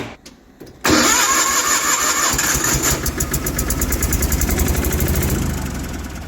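A service truck with a loud muffler cranks briefly and catches, its engine roaring up and then settling into a steady, rough, rhythmic idle that fills the rest of the moment, close and loud with no talking.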